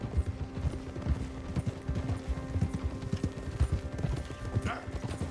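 Horse hooves clip-clop steadily in Red Dead Redemption 2, a continuous rhythmic clatter of footfalls sitting under a low rumble of ambient game sound, moderately loud throughout.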